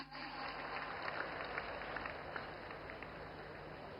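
Steady applause from an audience welcoming invited artisans and craftsmen, such as blacksmiths, at a public ceremony, sustained and even for about four seconds with no voices over it.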